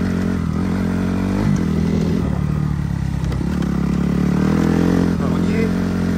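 A Suzuki RM-Z 250 dirt bike engine runs loud and steady while riding toward an abandoned farm, with constant droning roar and small throttle changes throughout.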